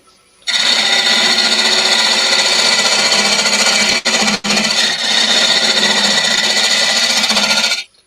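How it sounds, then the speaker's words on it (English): A loud, steady mechanical whine of a drill with a Forstner bit boring through wood, running continuously for several seconds with two brief dips before cutting off. "if you start big with a Forstner, then work your way down"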